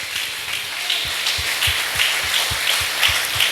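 A church congregation applauds, with rhythmic clapping in a steady, fairly even beat filling a room, no voices over it.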